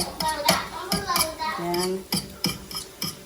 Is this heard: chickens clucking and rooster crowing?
no